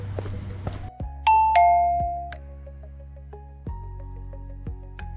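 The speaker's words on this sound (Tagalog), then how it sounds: "Nag-doorbell kami." A doorbell in a partitioned house in Dubai chimes with two bright ding-dong tones that ring out and decay, followed by a few fainter electronic beeps, with no one speaking.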